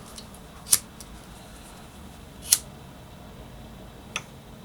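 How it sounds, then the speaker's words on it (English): Three sharp snips of scissors cutting paracord on a patriotic bracelet, two crisp cuts about two seconds apart and a fainter third, near and alone over quiet room tone. "Sorry, I know the snipping of the cords is the most boring part of my videos."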